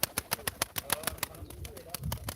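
Pigeons coo softly at a live pigeon auction, their calls running under a steady train of sharp rhythmic clicks and tapping, with faint low murmurs of people nearby.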